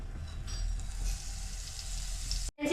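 Four pieces of cheese fry in butter in a well-heated pan, giving a steady close sizzle throughout that cuts off abruptly near the end.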